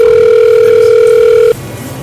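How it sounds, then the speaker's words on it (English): A steady, loud telephone dial tone hums while a call is being placed, cutting off abruptly after about a second and a half and leaving faint line noise. "So let me call Josh."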